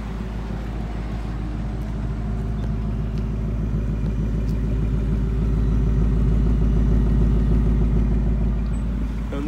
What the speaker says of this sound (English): On this, you got the 5-liter V8. You got the mean Mustang grumble, the signature Mustang grumble.